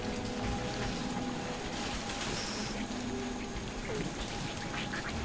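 Continuous rain in the video game Marvel's Guardians of the Galaxy hisses steadily throughout, with faint tonal game sounds drifting underneath.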